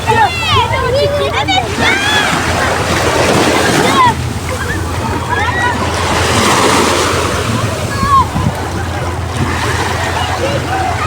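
Sea waves wash steadily onto a beach during a picnic amid strong wind buffeting the microphone, while children's voices and chatter come and go over the surf.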